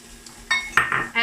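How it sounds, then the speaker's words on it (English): Chopped onion and celery tipped into a preheated frying pan for a vegan lasagne, giving a few short clattering impacts and a soft sizzle in quick succession, close by with no talking. "I've got 1 onion that I've chopped, and I'm adding this to my preheated frying pan, and 1 celery stick."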